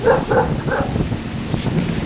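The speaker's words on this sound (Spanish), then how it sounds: "Vamos con los perros caminando." Dogs out walking along a town avenue give a few short barks and yips in quick succession near the start, then fade into quieter rustling outdoor background.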